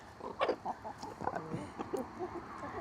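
Silkie chickens cluck in short, irregular bursts inside a coop on a Canadian homestead northeast of Algonquin, the calls fairly close but soft.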